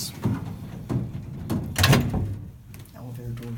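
Doors of an antique gated Haughton elevator with two-speed doors, heard as clattering, rolling metal thuds close by while someone talks, then a rhythmic rattle as they settle shut.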